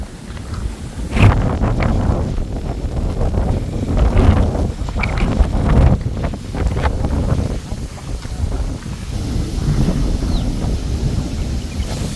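Strong gusts batter the microphone on a steep hill climb up Thenpalani Murugan hill, rumbling in heavy, uneven surges for several seconds with faint voices underneath.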